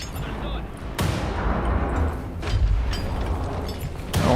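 Grenade explosions in the video game Wolfenstein, heavy booming blasts with sharp onsets and a dense rumbling roar continuing between them, loud and close.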